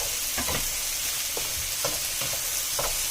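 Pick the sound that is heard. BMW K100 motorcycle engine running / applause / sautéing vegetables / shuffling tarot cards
sautéing vegetables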